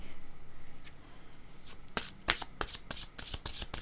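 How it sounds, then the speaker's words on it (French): Tarot cards being shuffled close up, a soft papery riffle that builds into a run of sharp, rapid snaps and flutters, with no talking. "Je vais demander une carte ici pour haine"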